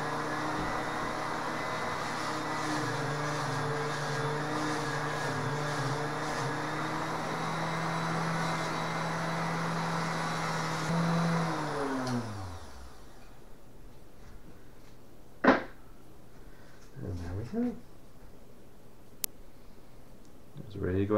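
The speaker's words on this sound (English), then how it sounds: "Give it a quick polish on the wheel." A polishing wheel motor buffs a wood inlay ring made from M1 Garand rifle stock, giving a steady close whine that winds down about halfway through, followed by a few sharp clicks and handling knocks in a quieter room.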